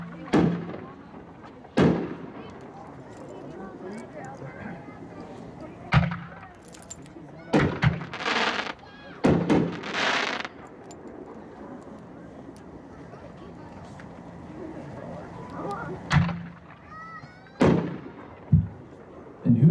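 Consumer fireworks at a demo thump and pop in scattered sharp bursts over about twenty seconds, some loud and close, others lighter, with quieter gaps between the shots.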